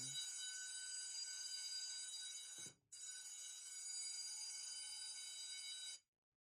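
A shrill electronic phone-finder alarm tone rings steadily from a phone, briefly drops out, resumes, then stops abruptly; no one talks.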